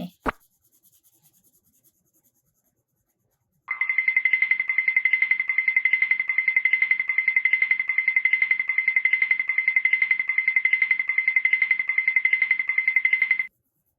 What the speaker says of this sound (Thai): มาเริ่มที่ระบายสีม่วงก่อนเลย